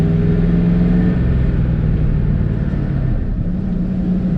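A 1979 Dodge D100 step-side barn-find truck idles steadily with the choke holding the revs up, a continuous loud low engine rumble with a slight unevenness throughout, close by and alone.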